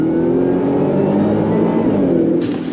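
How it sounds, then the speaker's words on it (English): A 2025 Ford F-150 Raptor R truck with a 10-speed transmission accelerating hard, its engine roaring loud and close from the cabin in one steady, sustained pull that stays dense with low rumble throughout. "On throttle, here we go."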